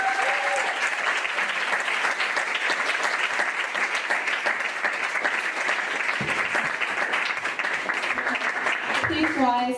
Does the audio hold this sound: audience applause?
yes